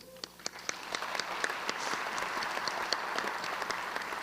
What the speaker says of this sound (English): Please join me in one last round of applause for all of our honorees and our student performing groups.